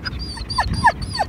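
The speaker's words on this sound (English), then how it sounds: "Oh yeah, she's a dog." A dog whimpers and yips in a rapid run of short, high, nasal cries, close and fairly loud over a low background rumble.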